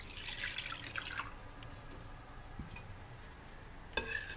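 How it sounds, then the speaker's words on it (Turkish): Lukewarm water pours into a bowl of yeast with sugar and vinegar, a quiet splashing trickle with drips that fades, then a brief clink near the end. "2 su bardağı da ılık suyumuzu ilave edelim."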